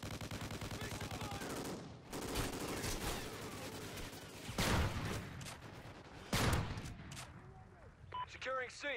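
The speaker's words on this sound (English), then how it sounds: "This little pistol thing's freaking awesome." Rapid gunfire crackles in a multiplayer shooter video game, a pistol firing in quick bursts among other shots, with someone talking over the action.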